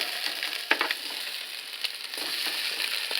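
Kielbasa fries in a pan with a fairly faint, steady sizzle and hiss, broken by a few sharp clicks and scrapes as the pieces are turned.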